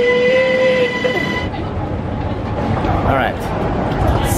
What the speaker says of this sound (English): There comes my first train!